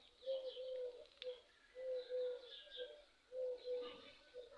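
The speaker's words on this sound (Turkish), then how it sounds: "Kumru ötüyor." A turtle dove coos in soft, low repeated phrases, three rounds of purring notes at steady intervals, with faint birdsong in the background.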